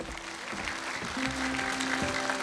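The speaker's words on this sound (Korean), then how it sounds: "더 큰 박수" Guests applaud at a Korean wedding ceremony held fifteen years late, steady moderate clapping throughout with a few brief tones above it.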